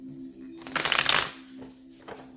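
A single brief burst of tarot cards being shuffled, crisp and close, followed by a couple of faint taps.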